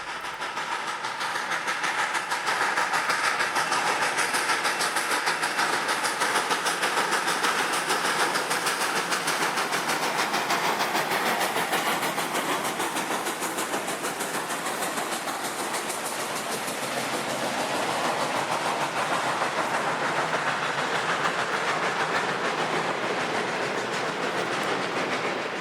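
Texas State Railroad steam locomotive number 316 rolls east hauling a photographer's special, a loud continuous rumble of engine and cars with rhythmic rail clatter that swells and eases as the train passes, no voices.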